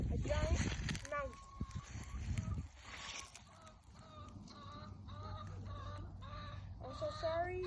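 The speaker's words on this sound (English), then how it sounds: "one of our chickens is clucking away" A backyard chicken clucks repeatedly in short, evenly spaced bursts, fairly close, running beneath a person talking over much of the clip.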